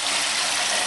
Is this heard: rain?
no